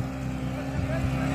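Snow bike engine running on snow at Sonmarg, Kashmir, giving a steady, close, low rumbling drone throughout with no breaks.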